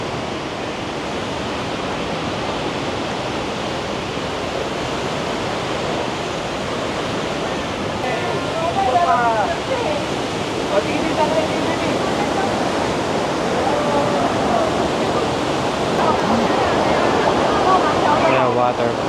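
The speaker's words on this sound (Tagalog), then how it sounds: "Ito na yung waterfalls." A waterfall on a North Taiwan tour pours as a steady broadband rush that fills the whole clip, loud and continuous, with people's voices and brief chatter faintly over the roar.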